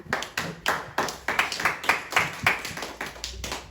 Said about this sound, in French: Est-ce qu'on peut acclamer pour le frère?